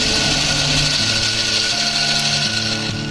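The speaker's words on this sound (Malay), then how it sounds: "Nampak boleh dengar sini motor dia jalan." An irrigation water pump motor runs in an automatic garden watering system, giving a loud, steady mechanical drone with humming tones that step up and down over the short stretch.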